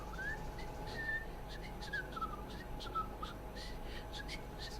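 A thin, wavering whistle repeats in short glides over a steady electronic hum, like a synthetic game sound effect; no talking.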